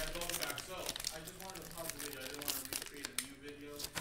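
A sealed trading card pack wrapper from a Gold Rush basketball break is worked open. The crinkling and crackling of plastic goes on nonstop, close and rustly, while someone talks over it.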